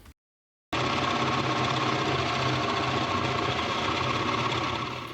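Motorcycles ripping along the Murchison Highway on a Tasmanian day ride. Half a second of near silence, then a steady, loud, close engine drone with a buzzing mechanical texture holds unbroken to the end.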